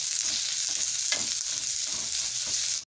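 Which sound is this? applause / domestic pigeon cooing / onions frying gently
onions frying gently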